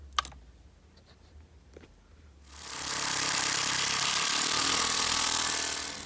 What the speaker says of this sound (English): I hit this nut with an impact, the 13mm, and it drove the steering wheel all the way flush